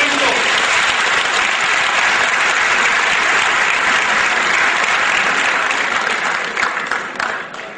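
An audience in a hall claps hands together loudly and quickly, a dense, sustained burst of applause that fades slightly near the end.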